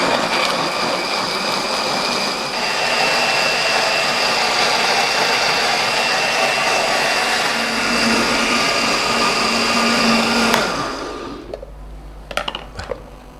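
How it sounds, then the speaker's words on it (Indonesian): A kitchen blender grinds chili paste for Padang-style ayam pop sambal, a loud steady whirring drone running for about ten seconds before it cuts off, followed by a few faint clicks and knocks. "Ini kita blender dulu."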